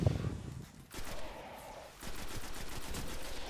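Gunfire in the shooter game Destiny, rapid bursts of automatic shots repeating in quick runs, moderately loud amid continuous game ambience.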